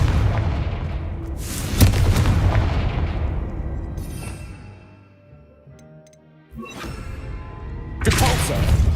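Confringo fire spell explosions in Hogwarts Legacy, booming blasts with crackling decay, one around the start, a quieter lull, then two more heavy bursts near the end.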